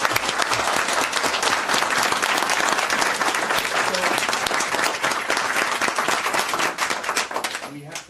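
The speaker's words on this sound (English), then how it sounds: "Round of applause, I think, is in order." Loud, close applause fills a council chamber after a unanimous vote, many hands clapping steadily before tapering off near the end.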